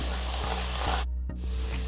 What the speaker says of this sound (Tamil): இப்போ 2வது டைம் நான் பூந்தி பொரிக்க போகிறேன்.